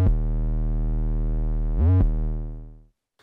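Sublab XL synth bass run through distortion, crusher and tape effects, two sustained gritty low notes with a brief pitch bend between them, loud and alone, tailing off after about three seconds.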